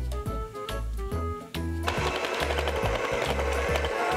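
An electric mixer beats butter, brown sugar, molasses and an egg into gingerbread cookie dough. A loud, steady motor whir kicks in partway through and runs to the end, with a few tonal notes before it starts.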